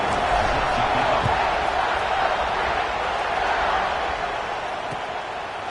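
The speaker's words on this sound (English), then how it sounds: "this crowd is buzzing after that last score" A football stadium crowd keeps up a loud, steady roar and murmur after a touchdown, a dense wash of voices that fades slightly toward the end.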